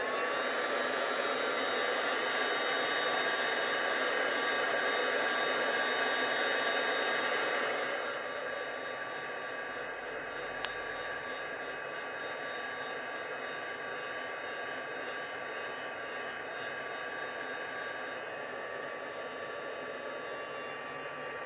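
Heat tool blowing steadily while drying craft embossing colour on a heat-embossed tile, a loud continuous whooshing roar that drops to a softer level partway through and carries on alone.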